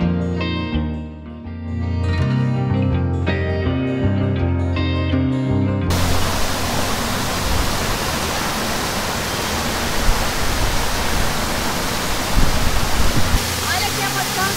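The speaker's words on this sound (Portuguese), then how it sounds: "Beleza de cachoeira, com 55 metros de queda de águas límpidas e geladinhas." A waterfall with a 55-metre drop of clear, cold water roars as a loud, continuous wash of white noise, starting abruptly after several seconds of music and holding steady without voices.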